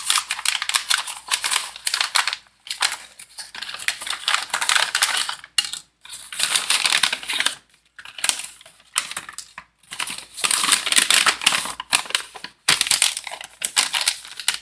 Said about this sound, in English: I'll stop talking while I'm messing with the noisy paper bag